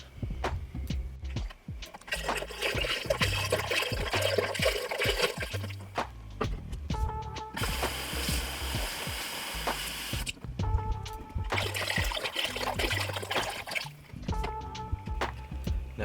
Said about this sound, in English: then I'm going to fill this back up with water